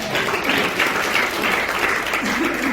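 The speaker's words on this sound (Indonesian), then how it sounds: "Ada tepuk tangan buat Tuhan." Congregation applause during a church testimony, a continuous dense wash of clapping from many people, moderately loud and even throughout.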